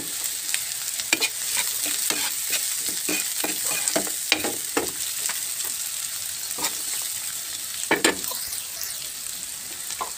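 Tofu and green chili frying in a pan give off a steady sizzle, while a utensil stirs them with repeated scraping clicks at an irregular pace, close up.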